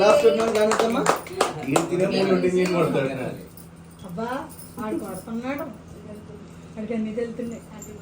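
A family group claps together at a home birthday celebration, a dense burst of close hand claps for about three seconds, then quieter talk with a few scattered sharp taps.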